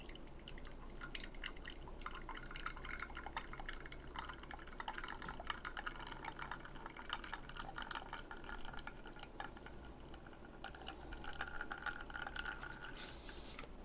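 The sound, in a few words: espresso dripping from machine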